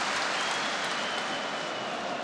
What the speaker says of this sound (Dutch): Daar krijgt hij applaus voor.